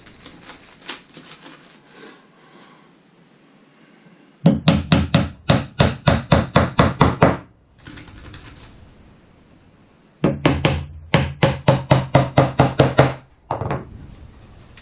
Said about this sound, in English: This might take you a little bit of practice doing the nails, but it will get in.